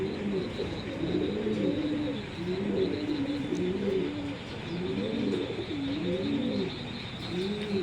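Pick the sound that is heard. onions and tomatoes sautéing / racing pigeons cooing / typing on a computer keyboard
racing pigeons cooing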